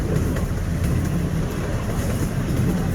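Knoebels amusement park train ride rolling along its rails, a steady close rumble with low-pitched churning and faint rhythmic clatter running continuously throughout.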